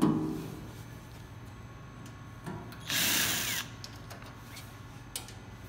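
A power drill whirs in a short burst of about half a second, backing out a cover screw on a model 460/490 paper cutter, set against low steady room hum with a few faint clicks around it.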